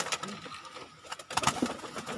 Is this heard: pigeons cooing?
yes